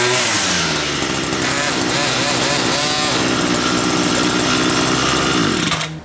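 An 18V cordless battery-powered electric string trimmer runs loud and close, a steady high motor whine with line buzz, cutting off near the end.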